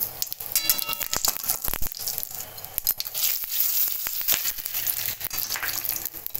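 Bay leaf tempering sizzling in hot oil in a pan, a loud close crackling fry with rapid spattering pops and sharp bursts throughout, no voices.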